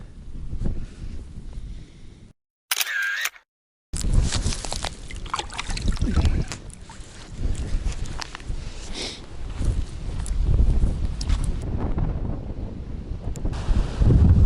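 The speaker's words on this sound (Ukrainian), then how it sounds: "вітер підсилюється" Strong wind buffets the microphone in heavy, continuous rumbling gusts, with a brief break partway through and no voices.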